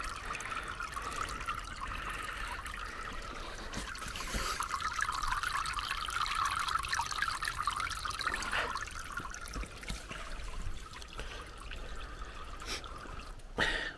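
Water trickles and runs in a drain trench dug for a root cellar, a continuous close babbling flow with a few brief splashy surges, no talk.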